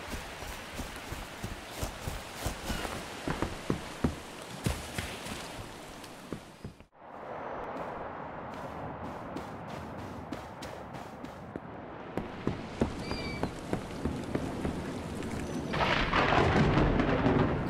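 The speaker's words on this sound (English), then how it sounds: "I'm in a rad storm at the moment" A rad storm in the video game Miscreated brings heavy, constant rain with sharp crackles and a thunder crash partway through, the downpour growing louder toward the end.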